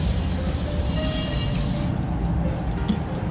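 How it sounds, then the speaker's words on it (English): Cleaner sprays onto a grimy thrifted item in a loud, continuous close hiss that holds steady for about two seconds before its top end drops away into a lower rushing tail. "Let's spray more stuff off of it."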